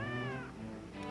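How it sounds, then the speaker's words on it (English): A single drawn-out meow from Sputnik the cat in an RPG Maker video game, close and clear, gliding down in pitch before a brief second cry at the end. "Sputnik the cat."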